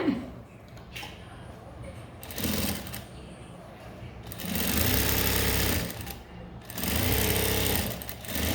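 A sewing machine stitches a blouse in bursts, its rapid close mechanical whirring starting and stopping several times, with quieter handling pauses between runs.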